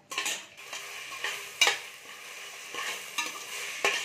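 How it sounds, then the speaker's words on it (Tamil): Onions are sautéed in a pan until golden brown, with spoon strokes scraping and clinking at a loose rhythm over a continuous close sizzle. "நல்லா வெயும் வெங்காயம் வந்து நல்லா வதங்கி அந்த ப்ரௌன் கலர் மாதிரி வரணும், பொன்னிறமாக வரணும், அந்த அளவுக்கு நல்லா வதக்கி விடுங்க"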